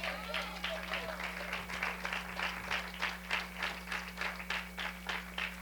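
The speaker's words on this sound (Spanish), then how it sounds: "Démosle un aplauso al Señor." A church congregation claps to the Lord in a steady rhythmic beat, faint and slightly distant over a low electrical hum.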